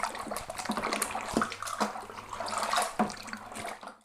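Boiling water pours from a kettle into a brewing mixture, a splashing, gurgling stream with uneven bursts and a few sharp clinks, close by and moderately quiet, ending abruptly.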